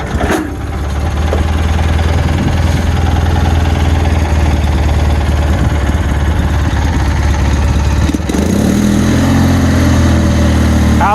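A Bolens 2000 lawn tractor engine runs at a steady idle after being started, a loud, close, continuous drone with a brief shift partway through, and no talk.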